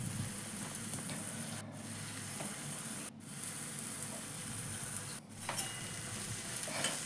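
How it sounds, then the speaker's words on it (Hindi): Garlic cloves and onion frying in a pan for brinjal bharta, a steady close sizzle with faint stirring scrapes running throughout, no talk. "अब हम ब्रिंजल भरता बनाने के लिए पहले हम पैन में थोड़ा सा गार्लिक क्लाव्स और ऑनियन डालेंगे"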